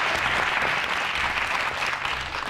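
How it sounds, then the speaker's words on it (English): Studio audience applauding on a televised youth leadership talk show, a steady dense wash of clapping that fills the whole stretch at close range with no voices over it. "A round of applause for Jabulani."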